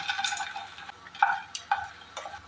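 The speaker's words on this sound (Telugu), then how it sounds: "ఒక స్పూన్ ఆయిల్ వేసుకొని పూల్ మకానీ వేసుకొని ఫ్రై చేసుకోవాలి లైట్గా." Phool makhana (fox nuts) frying lightly in a spoonful of oil, with scattered spoon scrapes and soft clatters against the pan over a quiet background, close by.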